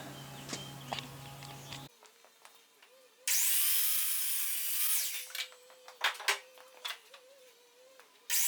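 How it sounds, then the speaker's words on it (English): A miter saw cuts wood pieces for a Dutch door's tenons, a loud whining cut of a little under two seconds amid clattering handling of wood and softer scraping sounds before and after. "So I know need to go cut these off on the miter saw"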